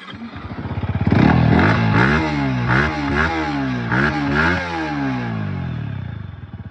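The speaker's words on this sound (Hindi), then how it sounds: "थोड़ा एग्जॉस्ट नोट अगर आप MT-15 का भी सुनना चाहते हैं तो सुना देता हूं मैं।" A 2024 Yamaha MT-15 motorcycle exhaust is heard close up. It is loud and rumbling, with several quick revs rising and falling in pitch over a few seconds.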